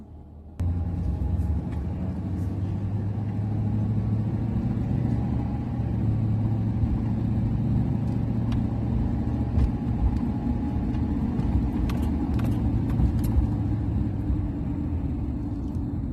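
A car driving home from a Mexican grocery store along a bumpy road, a steady low engine and road rumble from inside the cabin with scattered small knocks and rattles, no one talking.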